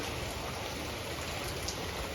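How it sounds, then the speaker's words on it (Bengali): Heavy rain pouring down steadily in Bangladesh after days of rainfall, a dense, even hiss of falling water filling the air without pause, close and uniform throughout, with no voices. "এইভাবে গত 4-5 দিন ধরে বৃষ্টি হচ্ছে"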